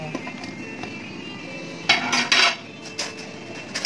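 Pumpkin pieces tipped into a cooking pot of boiling water on a stove, a clattering metallic burst of clinks and knocks against the pot over a steady background hiss, with no voices.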